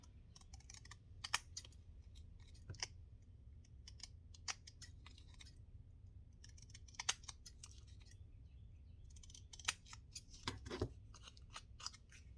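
Crisp, sharp snips of scissors cutting paper come in irregular bursts, close and fairly quiet, with faint rustling between cuts.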